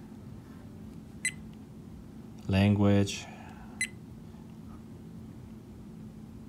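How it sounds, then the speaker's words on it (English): Two short, faint electronic beeps from an OnReal 4K action camera's menu, about two and a half seconds apart, with a voice speaking briefly between them over a steady background hiss. "The beeping sound can be turned off because that can be annoying if you're at like a recital"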